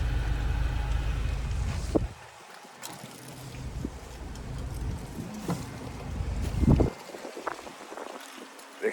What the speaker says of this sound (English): Excuse the wind if you can hear that. It's very cold, very windy today.